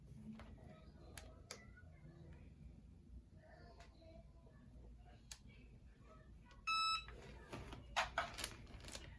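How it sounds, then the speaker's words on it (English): A heat press gives a short electronic beep around the finish of a shirt-pressing cycle, a brief bright tone burst standing out over a quiet room hum before some soft handling noises. "The beep means that it is done."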